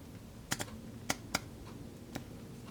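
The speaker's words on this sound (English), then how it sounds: "There's your gear change in action." A Mavic Zap bicycle rear derailleur shifting gears, giving a few sharp, distinct clicks, two close together then two more and a fainter last one, over quiet room noise.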